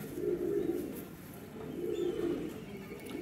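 Cheena pigeons, a flying and homing breed, coo softly in two drawn-out, throaty phrases with a brief lull between them; the birds sound close, and no one speaks.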